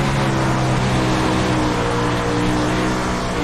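A dirt-track race car at Lernerville roars loudly and steadily through a turn, its engine note continuous and harsh as it runs over a rough bump, with no voices.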